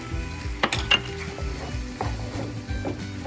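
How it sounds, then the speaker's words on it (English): Pineapple fried rice with teriyaki glaze and soy sauce being stirred in a pan: a utensil scrapes and clinks against the metal in steady strokes, with faint sizzling underneath. "Now you want to mix it all together."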